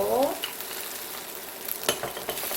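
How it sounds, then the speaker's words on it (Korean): Rice being stir-fried in a pan and tapped down with a spatula, giving soft scraping stirs and a few light taps over a low sizzle, close and without talk. "밥을 이런 식으로 두곡으로 톡톡 쳐주면서 3분 정도 충분히 볶아준 다음에는 대파를 넣고"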